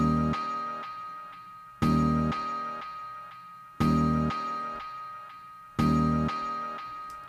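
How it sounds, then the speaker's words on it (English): A sampled, tinkling harmonic phrase with a quarter-note delay repeats in four even cycles, each starting with a sharp attack and then thinning as the echoes decay. It plays alone and sounds close and clear. "I added a delay to this sound, a quarter note delay."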